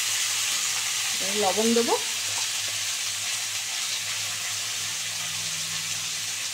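Pumpkin and potato go into a hot pan of oil for a prawn and pumpkin chhaka, giving a loud, steady close sizzle throughout, while a voice speaks briefly near the start.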